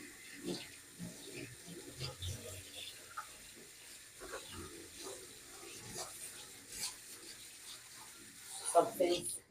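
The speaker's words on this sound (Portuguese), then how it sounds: "Só pra vocês não terem que ouvir minha torneira." Kitchen faucet running steadily while dishes are washed in a sink, a continuous watery hiss with clinks and splashes, louder toward the end, under a person talking.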